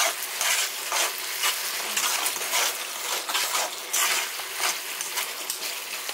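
Pepper spaghetti is stirred in a frying pan, a continuous loud sizzle with repeated scraping and stirring strokes close by, no talking.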